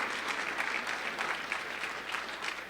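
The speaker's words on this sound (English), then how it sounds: "Give her a round of applause as well." A breakfast meeting audience of the Pennsylvania delegation gives the Philadelphia mayor a steady round of applause, dense clapping filling the room at moderate distance with no talk over it.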